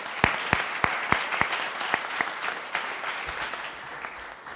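Applause at a military change of command ceremony: a few loud, distinct nearby claps over softer scattered clapping from a small audience, thinning out toward the end.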